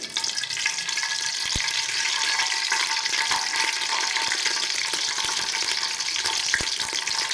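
Black cardamom, green cardamom, cloves, ginger and star anise roasting in a pan for chicken pulao, a steady close crackling sizzle with a few sharp pops, no voices.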